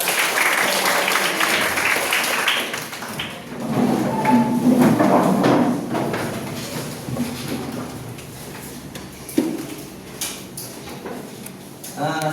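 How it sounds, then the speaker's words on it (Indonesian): Students in a classroom clap their hands: a burst of brisk, moderately loud clapping that fades to scattered claps, with a few sharp knocks near the end. "Oke, tepuk tangan."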